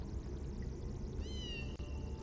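In Harry Potter and the Philosopher's Stone for the PSone, a kitten lets out a single brief, high meow midway through, set against a steady hum of background game music.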